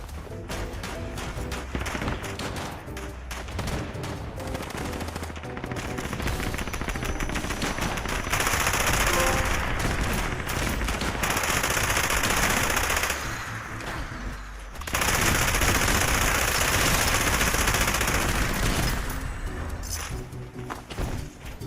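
A light machine gun in the video game Fallout 76 fires in long, rapid, loud bursts, with a short pause midway before the sustained automatic fire resumes.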